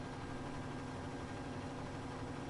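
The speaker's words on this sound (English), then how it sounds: "I don't know why this tractor sounds like it's about to give out either." A tractor in a farming video game grinds out a steady, strained low engine drone that stays constant and unbroken, with no talk over it.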